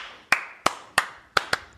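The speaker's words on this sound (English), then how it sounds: "I think that was just a slow clap, just an energy build type thing." Five sharp hand claps come at a slow, deliberate pace, roughly a third of a second apart, with the last two closer together, crisp and close with quiet gaps between them.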